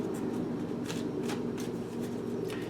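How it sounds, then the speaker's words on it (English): A deck of tarot cards is shuffled by hand up close, giving a soft, continuous riffling patter with several brisk flicks, quiet and alone. "I'm gonna shuffle these."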